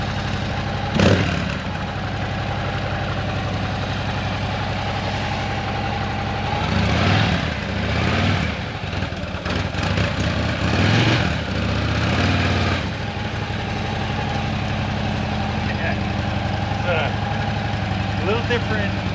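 A Harley-Davidson Road Glide motorcycle idles just after starting, its steady low engine rumble running close and continuous with a few brief surges in the middle.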